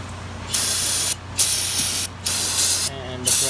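Brake cleaner sprays from an aerosol can in four loud, sharp hissing bursts of about half a second to a second each, with short pauses between, during work on a Honda/Acura J-series engine's oil filter housing.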